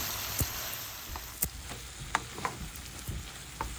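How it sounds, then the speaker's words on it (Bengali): Bottle gourd pieces with spices stirred in a frying pan, soft scattered scrapes and taps over a quiet, steady sizzle. "লাউগুলো দিয়ে একটু ভালো করে নেড়ে ছেড়ে দিচ্ছি"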